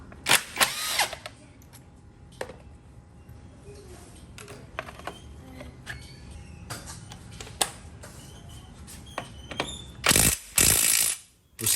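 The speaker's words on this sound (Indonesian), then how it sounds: "Pakai impact dong, nggak apa-apa lah ya biar cepet." Power tool bursts on a Yamaha NMAX scooter while the front brake area is being stripped, with ratcheting mechanical clatter, sharp bursts and a loud sustained whir near the end, close to the mic.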